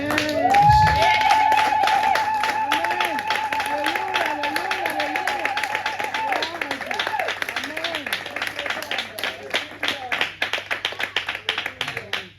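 A church congregation at a Sunday service claps and applauds, the clapping growing into a crisp, rhythmic beat, with voices calling out and a sustained tone underneath.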